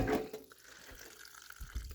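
Water pours from a camp jug and splashes and trickles briefly, a quiet close-up gurgle that fades into soft drips.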